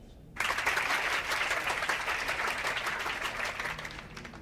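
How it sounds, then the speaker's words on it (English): Sustained applause from a crowd, steady dense clapping that starts abruptly and continues without any talking, loud and close. "A round of applause, everyone."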